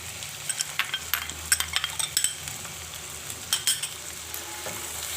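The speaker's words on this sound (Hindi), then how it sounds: "और अदरक लहसुन पेस्ट को भी अच्छी तरह भून लेंगे।" Ginger garlic paste fries with onions in a pan, a soft steady sizzle broken by scattered clinks and scrapes of a spoon stirring, close and fairly quiet.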